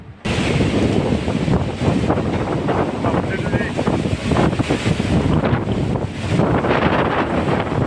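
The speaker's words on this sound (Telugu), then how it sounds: "చాలా పెద్ద గాలి అనమాట" Strong summer storm wind roars steadily, bending trees low, buffeting the microphone with a loud, rushing, continuous blast from start to end.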